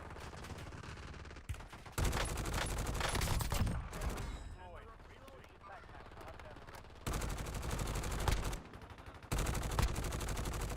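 Rapid video game gunfire bursts loudly in long sustained volleys, with broken stretches of lighter shots and a person talking over the middle section.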